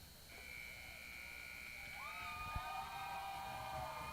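A steady electronic buzzer tone ends the third period of an LSU hockey game, sounding for several seconds, with a second lower tone joining partway, over a constant murmur of arena crowd noise.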